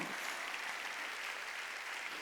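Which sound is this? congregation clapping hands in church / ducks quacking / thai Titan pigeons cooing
congregation clapping hands in church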